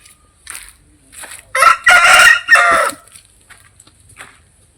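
A Tellaparla fighting rooster crows loudly and close by, one drawn-out call broken into a few bursts, with faint clucking before and after.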